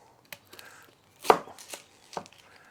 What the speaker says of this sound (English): Next, we're gonna do our onion. We're just gonna cut